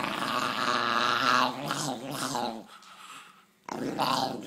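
A dog growls in low rumbling bursts, close and fairly loud, fading into a short quiet gap before the growl resumes.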